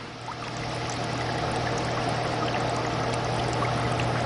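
Water flows steadily through sand in a model dam, a continuous close rushing trickle that builds slightly at the start and then holds at an even level, with a low steady hum underneath.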